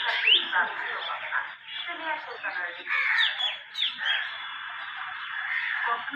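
A crowd of birds, crows among them, call and chatter busily at close range while feeding from a plate of bird food, a dense overlapping mix of caws and chirps.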